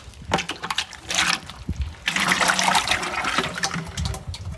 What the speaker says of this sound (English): You want to pour all of your part B in.